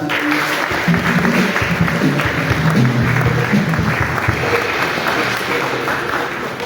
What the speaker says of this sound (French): Vous pouvez aller vous asseoir sous les applaudissements.